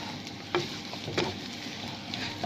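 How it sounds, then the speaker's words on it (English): Bubble and squeak sizzles quietly in a frying pan, a soft continuous crackle broken by a few light scrapes and taps as it is stirred around. "You just stir it around one more time"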